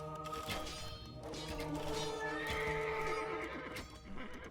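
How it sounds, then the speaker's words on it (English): A horse in Age of Empires gives a long, loud neigh, a whinny that rises and falls over several seconds, with faint clip-clop and game clatter around it. "And the Incas have a horse."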